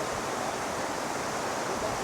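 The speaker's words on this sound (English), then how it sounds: "Is it a weir? Or a waterfall? I'm not sure. But the crashing of water is always a fabulous sound." Water crashes over a man-made weir on a river in Marsden, West Yorkshire, a loud, steady broadband roar with no breaks, heard close and alone.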